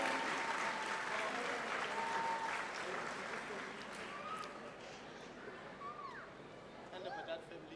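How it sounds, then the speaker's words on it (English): A book launch audience breaks into sustained applause, loud at first and gradually thinning, with crowd chatter and voices mixed in beneath the clapping. "Can we please get a round of applause for the handover?"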